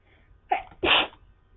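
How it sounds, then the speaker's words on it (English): A single close sneeze: a short sharp intake followed by a loud burst, then quiet. "Hang on, I gotta sneeze."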